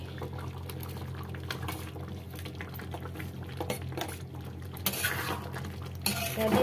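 A spoon scrapes and stirs through fried chicken in a pan of chilli chicken gravy. Soft, steady metal-on-pan clinks and scrapes run under a faint bubbling, quiet and close.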